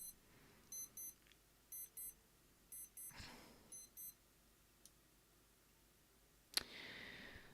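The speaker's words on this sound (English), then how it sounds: "The alarm is going off." An alarm clock goes off with faint, evenly spaced pairs of electronic beeps repeating several times, broken by soft clicks and a sharper knock near the end.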